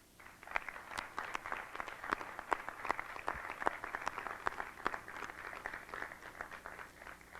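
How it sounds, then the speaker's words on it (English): Audience at a 1994 Full Sail graduation ceremony gives a round of applause, a steady, fairly distant wash of many hands clapping that holds even for several seconds. "let's begin to thank everyone who has supported you with a round of applause"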